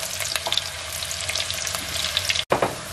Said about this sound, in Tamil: இப்போ பார்த்தீங்கன்னா மற்ற எல்லாம் வதங்கிட்டு இருக்கு